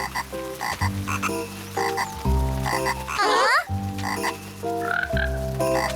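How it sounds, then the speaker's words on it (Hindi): A cartoon frog croaks in a steady run of loud, tonal, buzzy calls with short pauses, broken once by a brief whooshing effect. "छोटे मेंढक"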